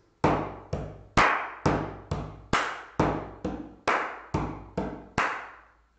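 Twelve sharp percussive hits in a steady rhythm, alternating knuckle taps on a table with crisp hand claps, each ringing briefly and decaying, close and fairly loud with no talk.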